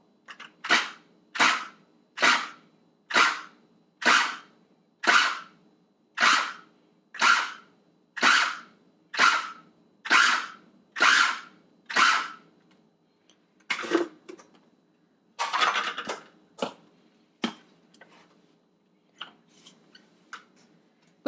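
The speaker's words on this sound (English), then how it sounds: "Next I'll process 2 medium tomatoes." A KitchenAid food chopper pulses through two medium tomatoes cut into roughly one-inch pieces: a run of about eleven sharp, evenly spaced whirring bursts, then a few shorter, irregular pulses, loud and close with no talking.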